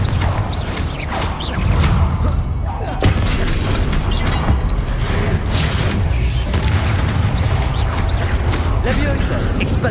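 The Confringo fire spell bursts and booms during Hogwarts Legacy combat amid whooshes, impacts and mechanical clatter, loud and dense throughout, with character voices heard over the fighting.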